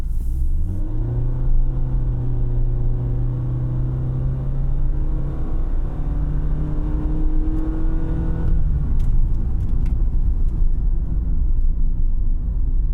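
A 2018 Honda Fit EX-L engine drones steadily from inside the cabin as the car accelerates smoothly through its CVT, pitch rising gradually without gear shifts, over constant road rumble.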